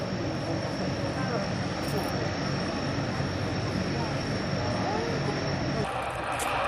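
A military jet makes a fly-past at about Mach 0.9 at an airshow at Fairford, heard as a steady, loud, broadband roar that fills the whole stretch and eases slightly near the end.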